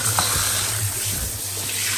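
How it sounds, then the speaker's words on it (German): Water rushes steadily from a bathtub tap and handheld shower head into a tub with a slow, clogged drain, a continuous close hiss and splash lasting throughout with no speech. "Ich drehe jetzt mal hier das Wasser auf."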